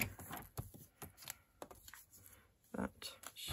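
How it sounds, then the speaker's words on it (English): Scissors snipping the bottom off a paper tag, a series of short crisp cuts and rustles at close range, quiet, with faint talk. "So if I just cut that bottom bit off there,"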